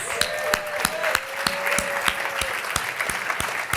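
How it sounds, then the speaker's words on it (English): Applause from an audience at a live-streamed awards event, dense continuous clapping throughout with a faint tonal whistle or feedback line early on, moderately loud and steady. "Can we just give them one more round of applause?"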